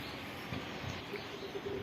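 Soft, low cooing from homing pigeons in a loft murmurs under a steady hiss of background noise, with faint chirps scattered across the short stretch.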